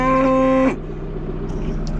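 A cow lets out a loud, low moo nearby that ends abruptly, followed by quieter outdoor background noise.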